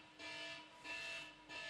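Three pulses of an electronic end-of-heat buzzer at a surf competition in Arica, Chile, each a steady tone of about half a second, fairly faint, with short gaps and no talk.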